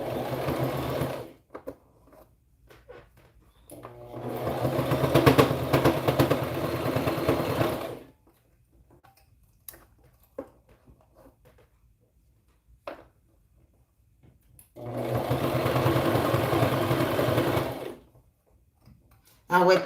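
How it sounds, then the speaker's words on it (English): A home sewing machine runs a zigzag stitch around a 1/4 or 3/8 inch seam on preemie shorts and a hat, sounding in two loud close bursts of several seconds each separated by near silence. "keep it on your zigzag stitch using a 1/4 inch or a 3/8 inch seam allowance and sew all the way around"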